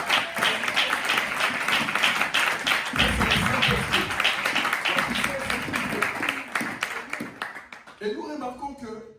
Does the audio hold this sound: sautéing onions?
no